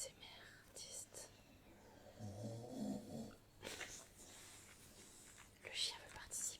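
A dog snoring softly in a quiet room, a few low rumbling breaths rising under close, hushed whispering from a person.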